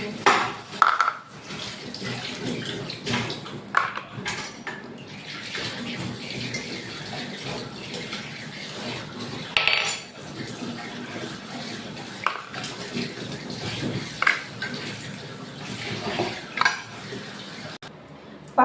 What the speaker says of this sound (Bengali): সব বাসন আমার মাজা কমপ্লিট, একে একে ধোবো আর রাখবো।